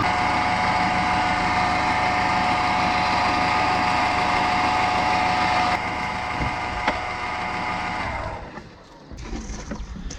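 An Audi A2 1.4 engine idles with a steady hum and a high whining tone from the alternator, loud and close, then shifts and dips near the end as the sound changes.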